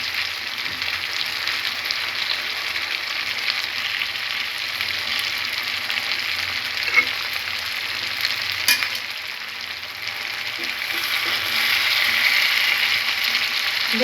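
Food fries in a pan with a little added ghee, giving a continuous bright sizzle that swells slightly near the end, with faint clicks of a utensil and no voices.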